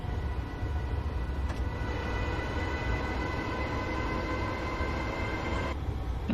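Class 314 electric multiple unit running between Dalmuir and Motherwell in Train Simulator, a steady rumbling rail drone with faint tonal whine held throughout, loud and continuous with no talk.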